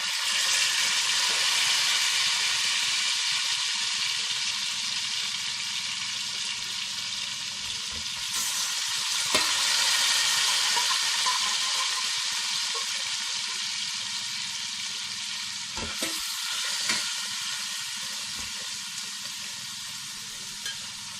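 Mutton pieces sizzle steadily in hot oil inside a pressure cooker, a loud continuous fry with occasional stirring scrapes and clatters against the pot, close up and without talk.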